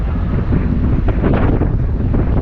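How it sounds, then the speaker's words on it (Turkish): Strong wind roars steadily across a kitesurf beach at the Red Bull King of the Air 2021 event, buffeting the microphone with a loud, continuous rumble and no voices. "Rüzgar iyice şiddetlendi."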